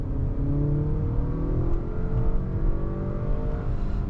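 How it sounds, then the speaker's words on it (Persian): A 2025 Acura RDX engine with a 10-speed gearbox, heard while driving: a steady, smooth hum that climbs gradually in pitch as the car accelerates, with constant road and tire noise underneath. "صدای خیلی جذابی داره موتورش."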